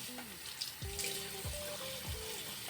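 Cool water runs steadily from a bathroom tap into a sink, a continuous splashing stream that carries on with a faint voice briefly in the background.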